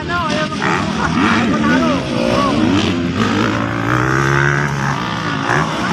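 Racing engines whine and rev at high pitch, shifting up and down as machines pass, under continuous excited commentary.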